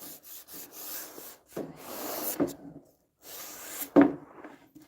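Folded sandpaper scuffs across a cabinet door being prepped for paint, giving bursts of dry rasping strokes separated by short pauses, with one sharper knock near the end.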